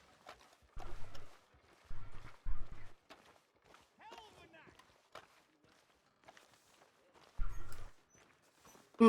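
Horses in a Wild West roleplay video game, hooves thudding in a few short bursts of clip-clop steps, moderately near, with a voice talking faintly between them.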